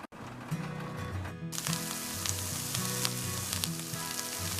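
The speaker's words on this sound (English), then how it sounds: "we're going to just saute this a little bit" Vegetables for chow mein sauté in a hot pan, giving a loud, steady sizzle and crackle that spikes brighter as the pan is stirred, close up with no talking.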